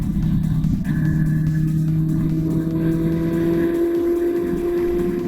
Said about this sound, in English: Vehicle oncoming.